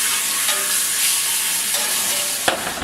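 A steak sears in a cast iron pan in an oven with a steady, loud, dense sizzle that runs without a break, and a brief clank sounds near the end.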